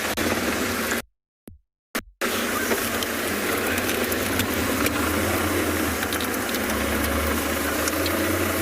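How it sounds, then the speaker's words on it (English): A safari vehicle's engine runs steadily while the car is turned on a road in South Africa, a medium, close hum with a brief cut-out early on and no talking. "I'm just going to turn the car."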